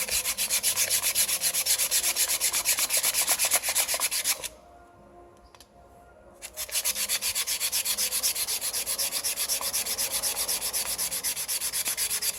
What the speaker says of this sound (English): we can take a little sandpaper or wire brush if you have it